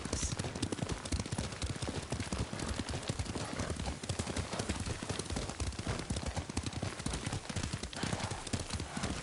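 Horse hooves clip-clopping at a steady riding pace in the video game Ghost of Tsushima, a dense continuous rhythm of hoofbeats heard close and loud throughout, with no talk over them.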